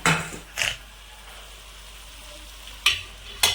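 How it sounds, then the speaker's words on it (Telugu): Capsicum pieces fry with onions, green chilies and curry leaves in a pan, a low steady sizzle broken by a few brief louder stirring scrapes near the start and end, close and without speech. "ఇప్పుడు క్యాప్సికమ్ ముక్కలు వేసేస్తున్నాను"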